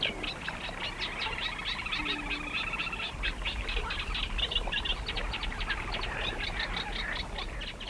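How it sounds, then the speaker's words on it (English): Calls of a female little crake rise from a reedbed among the wetland reeds, heard as a steady, busy chorus of repeated chirping notes at moderate distance with no talk. "In the background, a female little crake, also not an English species."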